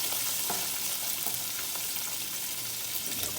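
Chopped onions sautéing in a pan, making a loud, continuous sizzle close up, with occasional light scrapes from stirring and no one speaking.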